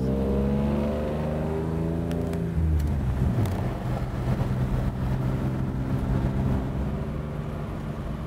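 A 1957 Plymouth drives on the freeway, its engine humming steadily, then giving way to broad road and wind roar at cruising speed, with no talk.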